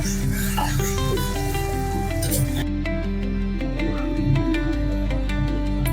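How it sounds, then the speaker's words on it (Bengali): Chicken is stir-fried with a little water in a pan, giving a sizzle and a run of regular scraping taps from the stirring, all partly buried under loud background music. "এবার এটাকে অল্প অল্প করে জল দিয়ে আমাকে এখন কষাতে হবে।"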